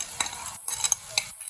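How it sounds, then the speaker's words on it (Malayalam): Onion, green chilli and tomato masala is stirred in a pan. Quick, close scrapes and clinks of the spoon come in uneven bursts over a light sizzle, with brief near-silent gaps between strokes. "മുളക് ഇതൊന്നും കൂടി നല്ല ഒന്ന് മിക്സ് ചെയ്യണം. അതിന് പച്ചമുളകിന്റെ പച്ച മണവും ഉള്ളിയുടെ ഉള്ള മണവും തക്കാളിയുടെ ചുവന്ന കളറും മായുന്നത് വരെ നന്നായി ഇളക്കുക"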